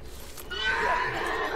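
A horse whinnies in the video game Hunt: Showdown, a rising, wavering neigh swelling up over faint background game ambience, fairly close.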